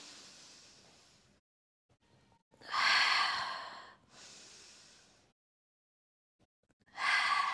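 Deep exercise breathing from a hip workout: several loud, close, airy breaths, each a rushing burst lasting a second or two, separated by near-silent pauses.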